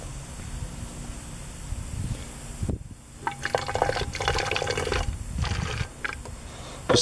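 Water runs into a container holding baking soda, a steady splashing fill with gurgles and drips, close by, pausing briefly before resuming.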